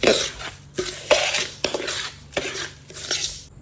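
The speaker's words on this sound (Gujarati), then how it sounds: "હવે આને સરખી રીતે મિક્સ કરી દઈશું" Mango pickle pieces being mixed with dried red chillies and hot mustard oil in a metal vessel, giving bursts of clattering, scraping stirs in an irregular rhythm, close and fairly loud with no voice.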